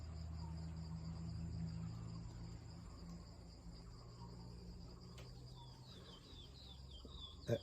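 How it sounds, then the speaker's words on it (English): Crickets chirp steadily outdoors in a high continuous trill, with faint birds calling now and then in the background and a brief knock near the end. "Crickets,"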